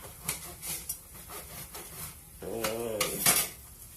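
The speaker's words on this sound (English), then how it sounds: "bolillo, bread knife, all you do is cut them in half lengthwise" A bread knife saws through bolillo bread rolls, halving them lengthwise: a series of close, crunchy scraping strokes, with a denser, louder stretch of cutting toward the end.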